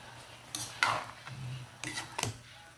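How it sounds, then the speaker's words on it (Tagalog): Pancit canton noodles with plenty of cabbage and other vegetables being stirred in a pan, with a few light scrapes and clinks of a utensil against the metal at irregular moments over a quiet low hum. "Halo-haloin hanggang mag-combine lahat."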